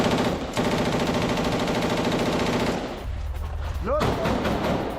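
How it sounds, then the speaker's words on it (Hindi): Heavy gunfire from Israeli IDF troops aimed at several buildings, a rapid rhythmic clatter of shots that stops abruptly, followed by a low rumble and a voice speaking. "कई इमारतों पर आईडीएफ की भारी फायरिंग"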